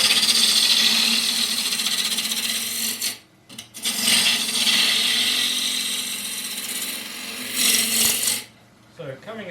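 A wood lathe spins while a 1/2 inch spindle gouge cuts the rim of a wide-rimmed wooden dish, a loud continuous hissing scrape with a couple of brief pauses where the tool lifts off.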